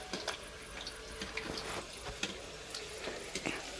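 Water pours into a large tank with a faint, continuous gush, broken by occasional soft splashes and knocks.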